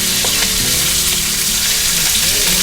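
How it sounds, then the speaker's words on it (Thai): Pork belly fries in its own rendered fat in a pan with no added oil, giving a loud, close, continuous crackling sizzle with occasional stirring and turning noises. "ตอนนี้ก็จะเห็นว่าสามชั้นเขาเริ่มรีดน้ำมันแล้วนะคะ ก็ให้เราพลิกกลับไปกลับมาเรื่อยๆค่ะเนี่ยเริ่มมีน้ำมันออกมาเยอะแล้วเห็นไหม"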